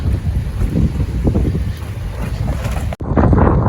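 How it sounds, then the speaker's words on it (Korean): Heavy rain and strong gusting wind outdoors in Melbourne, Australia, a loud continuous roar buffeting the microphone, broken by a brief dropout before the rush resumes. "비가 엄청 많이 내려요 지금 많이 더다 젖었습니다 지금 광풍도 엄청 불고"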